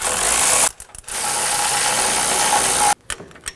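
Hand ratchet snugging grille bracket bolts on a Ram 2500 pickup, close and loud: long runs of rapid pawl clicking broken by short pauses between strokes, with no voices.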